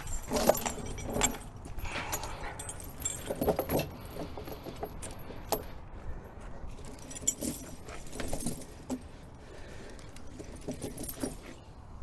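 Metal snow chains jangle and clink against a truck tire as they are fitted during a Scandinavian haul, a close, irregular rattling of links with scattered knocks over a steady low background.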